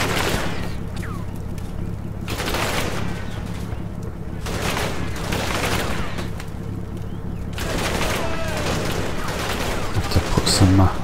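Gunfire in the Combat Mission Market Garden war game comes as repeated sharp bursts, with several volleys of rifle and machine-gun fire over a low rumbling background.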